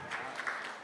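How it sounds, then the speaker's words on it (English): Audience applause at a 2020 all-hands design workshop, a short steady patter of clapping from a room of people, faint and even throughout with no voices on top. "Big round of applause."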